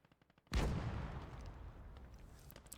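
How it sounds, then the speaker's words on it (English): A Panzer IV tank gun fires at infantry in Gates of Hell: Ostfront, a single loud close blast following faint ticking, then a long rumbling decay with scattered distant crackles. "Panzer IV murdering my infantry."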